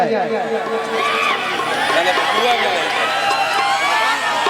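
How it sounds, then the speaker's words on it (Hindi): Busy crowd at a stage show, a steady near wash of chatter, shouts and whoops from many voices with no pauses throughout. "ये भीड़, ये क्लाउड, ये हल्ला, ये शोरगुल, यही तो ओरिजिनल दौलत है हम लोगों का"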